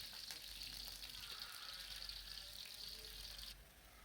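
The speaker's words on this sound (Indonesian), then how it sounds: "Minyak udah panas, kemudian saya masukkan bumbu kuning yang untuk ikan asap" Blended yellow spice paste for smoked fish sizzling in hot oil in a pan, a steady close hiss of frying that holds for several seconds before softening slightly.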